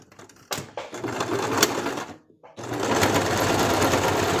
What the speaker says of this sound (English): now I'm sewing over several pieces of material